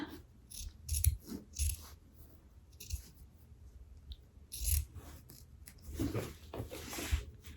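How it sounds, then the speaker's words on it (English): Small, sharp sewing scissors clip fabric, a quiet, close series of crisp snips arriving in uneven bursts with brief pauses between them. "These little scissors are so sharp."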